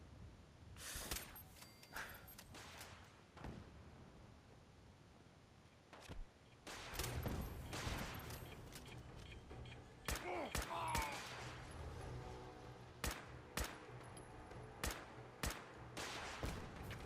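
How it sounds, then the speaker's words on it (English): Rifle gunfire in the video game Fallout 4, explored at a water treatment plant: scattered sharp shots and quick bursts, loud and close, with quieter gaps and background game noise between them. "Damn, I hate these rifles. They bounce around way too much."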